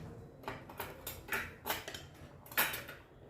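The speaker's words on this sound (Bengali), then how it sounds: "বেগুনটা আমার ধোয়া আছে, একটু চিড়ে দিচ্ছি।" A knife slits through a washed eggplant, giving several short, crisp cutting clicks spaced irregularly, close and fairly soft, with no talking.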